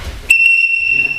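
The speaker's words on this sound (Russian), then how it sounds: "По свистку работаем." A referee's whistle at a sambo bout gives one sharp, loud, sustained shrill blast that starts abruptly and holds for nearly a second.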